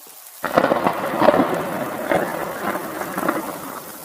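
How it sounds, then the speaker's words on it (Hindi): Steady heavy rain pours down with rolling rumbles of thunder building through, loud and close, no voices. "इतनी बारिश में भागते हुए कहाँ चले जा रहे हो हाथी दादा?"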